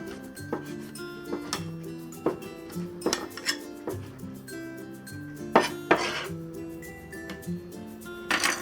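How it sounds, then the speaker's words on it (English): A knife slicing pork loin thinly on a cutting board makes a series of close, irregular taps and clinks of blade on board, with some utensil and dish clatter mixed in and no talking. "I have a piece of pork loin here. I'm going to slice very thin."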